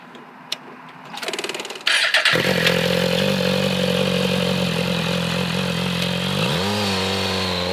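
A Yamaha R1 superbike engine starts with a short crank, then settles into a loud, throaty idle close by and revs up near the end, with no talking.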